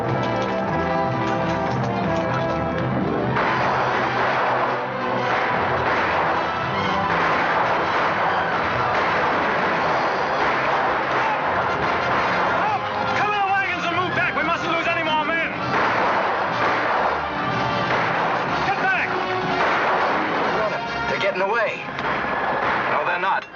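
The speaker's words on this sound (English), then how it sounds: "Everybody, take cover and open fire." Gunfire in a battle scene from a 1940 western film, with repeated shots and volleys crackling over a dense mix of shouting voices, horses and music across the whole scene.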